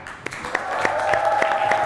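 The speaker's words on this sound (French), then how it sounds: "On applaudit pour Keila." Children clapping for a classmate at a school in Gahanga, steady evenly spaced claps with a few louder hits, moderate and close, over a faint sustained tone.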